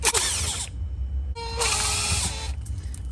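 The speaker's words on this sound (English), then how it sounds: "I have a drill right here" A power drill fitted with a Phillips bit whirs in two bursts, each lasting under a second, with a short pause between them and a low motor hum continuing underneath, while working on a Samsung refrigerator.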